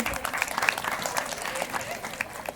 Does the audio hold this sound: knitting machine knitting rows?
no